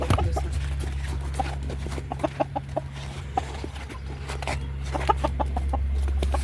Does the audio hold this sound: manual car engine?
no